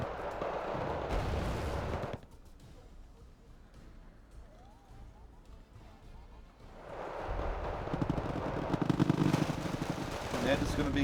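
Machine gun fire rattles at long range in the real-time strategy game Wargame Red Dragon, with bursts of gunfire at the start and again in the second half and a quieter stretch between, under a commentator's voice.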